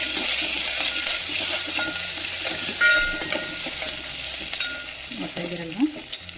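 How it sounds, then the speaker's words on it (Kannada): Green chili and curry leaves fry in oil over low heat for a tondekai palya, making a steady hiss with scattered stirring clicks and a faint voice murmuring near the end. "ಕರಿಬೇವಿನ ನಂತರ ಒಂದು ಹಸಿಮೆಣಸಿನ್ಕಾಯಿ ಸ್ವಲ್ಪ ಖಾರ ಹಿಡಿಯುತ್ತೆ ಇದು ಹಸಿಮೆಣಸಿನ್ಕಾಯಿನ ಹಾಕ್ತಾ ಇದ್ದೀನಿ"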